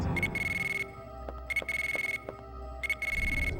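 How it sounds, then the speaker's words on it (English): A pager in the Dino Crisis video game beeps electronically in repeated bursts, three evenly spaced shrill pulsed tones over a low game background. "We will stop the beeping of the pager."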